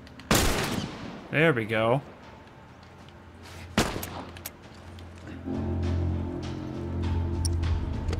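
Gunfire in The Last of Us Remastered on PS4: a loud single shot opens, another sharp report follows a few seconds later, with a brief spoken remark between them and low rumbling game ambience through the second half.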